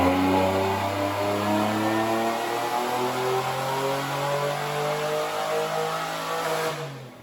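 Supercharged XPZ 3800 V6 in a Pontiac Fiero revving hard on a dyno, a loud sustained wail with rising and falling harmonics that holds steady before dropping off abruptly at the end as the throttle is released.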